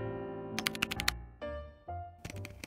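Clicky keys on a computer keyboard tapped in short, uneven bursts of sharp clacks, separated by brief pauses and duller thumps, heard close up with no talking.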